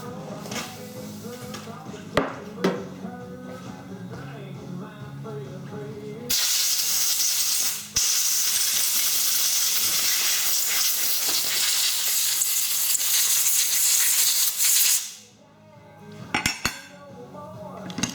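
Italian bearings being cleaned of oil with a steady loud hiss of spray or air running for several seconds, framed by clinking metal parts and handling noises before and after, with no talk.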